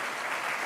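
Dense audience clapping fills a brief moment, a steady wash of applause from a studio crowd.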